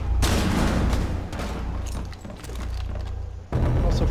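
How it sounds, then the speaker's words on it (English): Flashbang grenade detonations in Rainbow Six Siege come through as a loud, continuous crackling blast with a second sharp burst near the end, amid busy in-game chaos. "Also, flashbangs work now"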